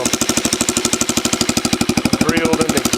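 A Yamaha TTR 90 dirt bike with a drilled exhaust pipe idles after a kick start, a loud rapid steady putter of even engine pulses close by, with no talk over it.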